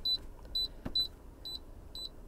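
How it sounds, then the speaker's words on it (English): Five short, high electronic beeps in a steady rhythm from a YIOU P1802 HEPA air purifier, fairly quiet over low background hiss, with a brief click in between. "We still hear beeping."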